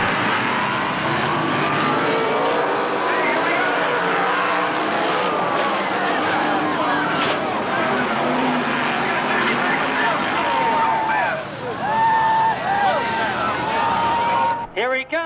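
Sprint cars roar around a dirt track at a 1991 West Coast race, with loud, continuous engine howls rising and falling as they pass while an announcer talks over the noise.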